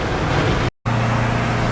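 A 1971 Chevy truck drives along with a steady, close engine and road drone, broken by a brief dropout before the rumble resumes.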